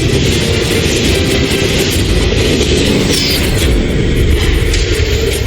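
A train rumbles steadily on the rails, a loud continuous low roar with rattling wheel noise throughout, close by.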